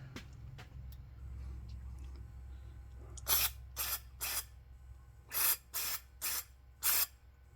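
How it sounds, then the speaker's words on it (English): Seven short bursts of aerosol cleaner sprayed into the jets of a two-jet carburetor on a 1965 Chevelle, hissing sharply in quick pairs and groups, close by over a low engine hum. "let's spray in the jets"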